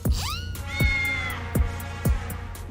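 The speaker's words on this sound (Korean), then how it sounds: "어느새 미순 씨의 빌라는 동네 고양이들의 밥집이 됐는데요" Neighbourhood cats around a residential villa meow repeatedly, with four or five drawn-out, rising-and-falling calls spaced about half a second apart, fairly close and clear with no talking.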